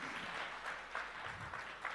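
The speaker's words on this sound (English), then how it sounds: "A bigger round of applause for the man here." An audience at a Realme U1 smartphone launch event applauds, a dense, even patter of clapping that is faint and sits in the distance.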